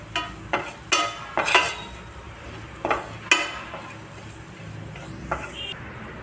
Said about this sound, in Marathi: आता हे सर्व आपल्याला इथे व्यवस्थित मिक्स करून घ्यायचं आहे